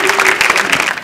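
Audience clapping fills a dance competition grand finale, a dense, loud burst of applause from a crowd, brief and continuous with no pause.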